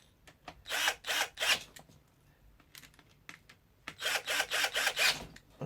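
A power drill runs in short bursts while driving screws into the window regulator of a 2002 Citroen Xsara Picasso, several close whirring pulses separated by quiet pauses and faint clicks.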